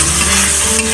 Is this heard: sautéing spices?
yes